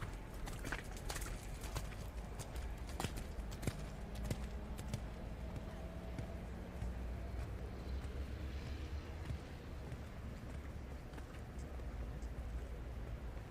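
Horse hoofbeats in a working canter during a junior eventing dressage test at a European championship; soft rhythmic thuds on arena footing, fairly distant and low under a steady ambient background.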